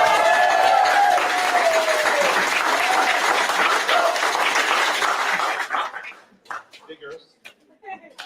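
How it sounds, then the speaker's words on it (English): Loud audience applause and cheering at a cocktail-making competition grand final, a dense sustained roar of clapping that fades out after about six seconds, leaving scattered voices. "Round of applause."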